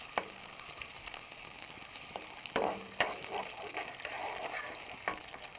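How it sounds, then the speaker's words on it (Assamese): Onions sizzle steadily in a pan while a utensil stirs and taps against the metal several times. "এনেদৰে পিঁয়াজখিনি ভাজি লৈছোঁ।"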